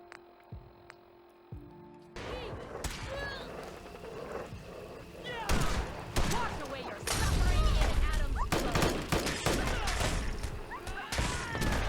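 Enemies fire guns in Fallout 4 in rapid, chaotic bursts of shots and impacts, loud and close, with someone talking excitedly over the firefight.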